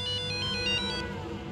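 A phone ringtone plays in a repeating electronic melody of bright chiming notes, then cuts off after about a second, leaving a low hum underneath.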